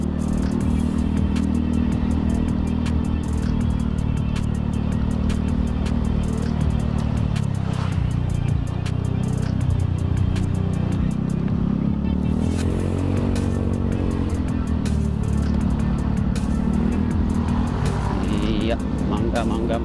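A Honda Beat FI scooter ridden gently at low throttle, a steady close engine drone with road rumble and wind running throughout, while the rider talks over it.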